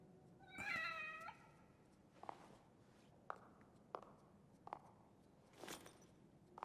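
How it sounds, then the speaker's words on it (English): A cat in the horror video game The Evil Within gives one drawn-out meow early on, followed by quiet, scattered clicks and soft footsteps against a faint ambient hum. "It's a good cat."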